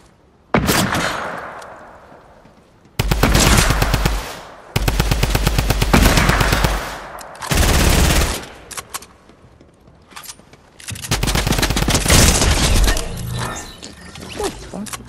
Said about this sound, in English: I brought a fucking drum gun.